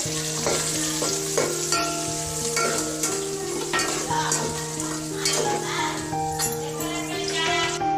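Onions frying in a pan until brown for soya chunk chilli, with a continuous sizzle and frequent utensil scrapes and clinks, partly masked by steady tonal background music.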